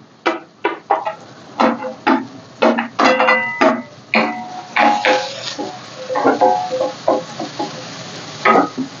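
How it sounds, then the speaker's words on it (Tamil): Cauliflower, peas, carrot and capsicum tossed together in a pan, with loud irregular clanks and scrapes of stirring over a soft sizzle, close up. "இப்போ காலிஃப்ளவரு, பட்டாணி, கேரட்டு, கொடை மிளகாய் எல்லாத்தையும் ஒன்றா போட்டு கிளறணும்."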